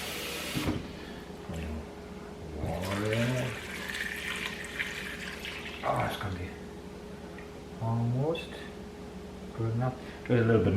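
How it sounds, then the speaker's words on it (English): Water pours into a cooking pot during budget meal prep, a rushing splash in the middle of the clip with a person talking before, during and after it. "Now we have to add in water"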